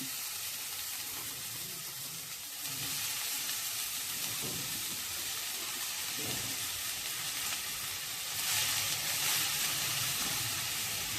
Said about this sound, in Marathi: भाजी परतून घेऊया.